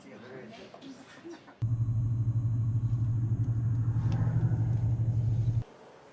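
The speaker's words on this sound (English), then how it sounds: "Okay, you can turn on the engine now." Volvo truck engine at a safety demonstration in Gothenburg, starting abruptly and settling into a steady, loud, low rumbling idle for about four seconds before cutting off, with voices heard faintly before it starts.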